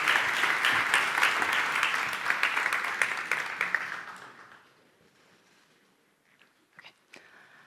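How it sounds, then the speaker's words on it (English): Audience applause at a game incubator demo day in Barcelona: dense, close clapping from a crowd for about four seconds that fades out, leaving quiet with a few scattered sounds. "let's give a warm round of applause to Saori, the project manager in Tokyo."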